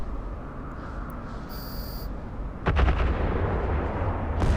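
In the space game EVE Online, a volley of ship weapons fires in a burst of sharp, booming blasts after a brief high electronic tone, the impacts rolling into a loud rumble, no speech.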